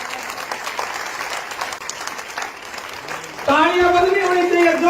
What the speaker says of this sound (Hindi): इन बच्चों के लिए खड़ा होकर एक बार जोरदार ताली बजाएं